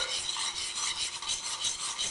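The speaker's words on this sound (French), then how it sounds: "Donc on va touiller un peu." Water and sugar stirred together in a container while cooking, a steady continuous rasping scrape that keeps going without pause, close by and fairly quiet, with no talking over it.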